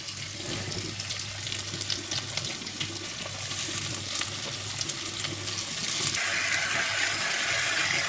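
Artichokes frying in a pan give a steady, hissing sizzle that holds throughout and grows slightly brighter toward the end, with no voices.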